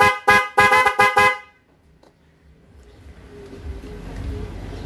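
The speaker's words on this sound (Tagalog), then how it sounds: "testing natin kung gaano kalakas yung busina natin." Newly installed dual horn on a Yamaha NMAX scooter, sounded in five loud, sharp, close honks in quick succession, followed by quiet low background noise.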